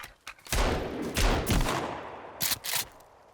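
Gunfire in the Sons of the Forest video game, a rapid volley of loud, close shots landing on a player, with several separate bursts.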